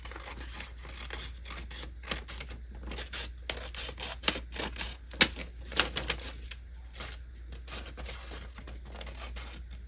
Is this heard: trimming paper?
yes